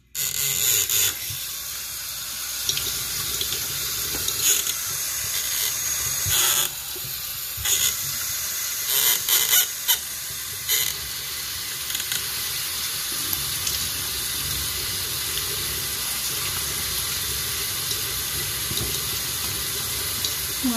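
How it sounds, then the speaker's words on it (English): A tap runs steadily into a sink during face washing, a continuous broadband water hiss with a few brief splashes and louder bursts early on, close and alone without talk. "Okay, I'm gonna wash my face first."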